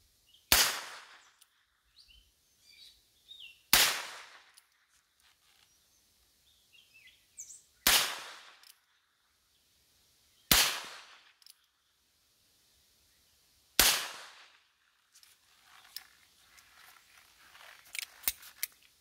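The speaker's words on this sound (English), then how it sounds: "I gotta keep shooting it one-handed till I hit it at least once" A Heritage Rough Rider revolver with a 9-inch barrel, fired one-handed at a 50-yard target outdoors: five sharp, loud cracks spaced about three seconds apart, each followed by a brief echo, with quiet gaps and faint rustling between them.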